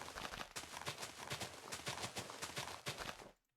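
Horse hooves clip-clop in a rapid, steady rhythm in a multiplayer video game, loud and close for a few seconds before stopping abruptly.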